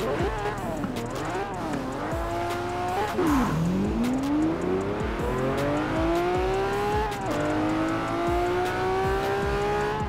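Several race cars in Forza Horizon 4 roar and rev continuously, engine pitches sweeping up and down as they shift gears, with occasional tire squeal, loud and close.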